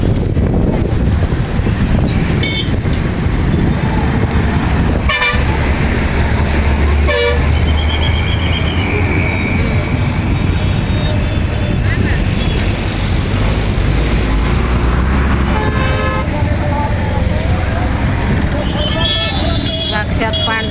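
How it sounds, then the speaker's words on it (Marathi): Crowded road traffic of cars, motorcycles and jeeps during a festival pilgrimage crowd, with repeated horn toots near and far over a constant roar, people talking throughout. "गाड्या तेवढ्यात, मोटरसायकली तेवढ्यात, जिपा तेवढ्यात."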